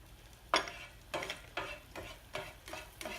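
Onions stirred in a pan on a stove, heard as five or six separate scraping strokes of a spoon over a faint sizzle, close by and with no talk.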